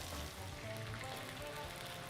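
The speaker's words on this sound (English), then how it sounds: "can you hear it's frying?" Tomatoes fry in a pan just after a splash of water, giving a steady, faint sizzling hiss with no talk over it.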